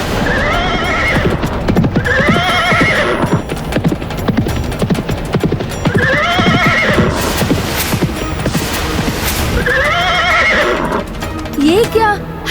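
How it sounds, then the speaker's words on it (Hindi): Many horses neigh and whinny in repeated loud calls over a steady clatter of galloping hooves, in a dramatic mythological battle scene, with music or effects swelling near the end. "हमारे अश्व की भांति दिखाई देने वाले सैकड़ों अश्व?"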